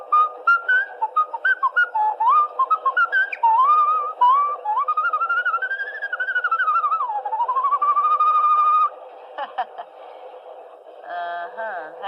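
A person whistles the tune Yankee Doodle alone, a clear melodic line of short phrases that turn into longer held, sliding notes, then trail off into a few brief chirps.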